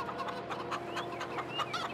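Chickens at a coop in a farming video game on the Elmcreek map give soft, steady clucks and short calls, a continuous low-level fowl chatter heard alone with no talking.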